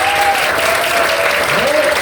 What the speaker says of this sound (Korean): 우리 이은규 변호사님께 다시 한번 큰 박수 부탁드립니다